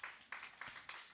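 A church congregation claps in a steady rhythm, about four even beats in just over a second, faint and distant.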